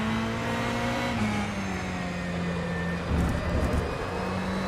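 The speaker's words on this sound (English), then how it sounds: "this LMP comes up behind me and I get very scared again" An LMP prototype race car in a racing video game drones steadily and close, its engine pitch sliding slightly as it approaches from behind, with a brief louder swell near the end.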